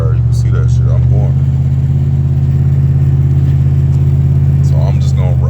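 A Dodge Ram 1500 pickup truck hauling a refrigerator cruises at a steady 40 mph, its low engine and road rumble droning continuously and loudly, with someone talking over it.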